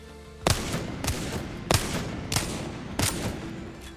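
Five evenly spaced heavy revolver shots from a Wingman in the Apex Legends firing range, each a sharp punchy crack followed by a short ringing tail, loud and close with no talking.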